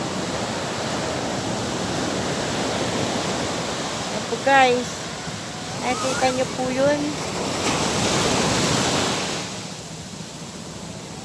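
A constant roar of surf washing onto shore, loud and broad, while a person speaks briefly over it.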